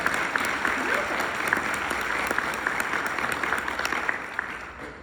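A church congregation at a United Church of Christ annual meeting in St. Petersburg, Florida, applauds steadily, a broad even patter of many hands with sharper individual claps, moderately loud and fading slightly at the end.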